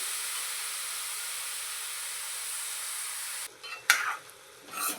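Ridge gourd (dodka) vegetable in a pan on high flame gives a steady close sizzling hiss, then a few brief scraping stirs near the end.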